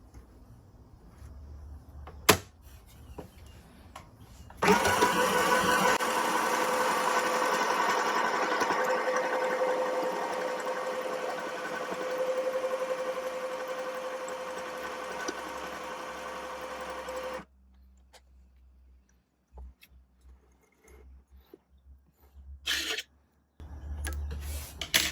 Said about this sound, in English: And as you can see, the machine stitches just fine.